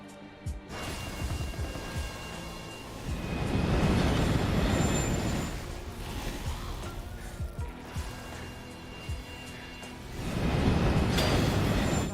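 A train in the video game Borderlands 3 rumbles steadily with clanking and squealing wheels, swelling louder twice as it passes.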